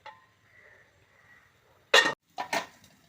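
A metal lid set down on a pot of North Kerala-style fish curry on the stove, giving one sharp clank followed by two lighter rattling clinks in a quiet kitchen.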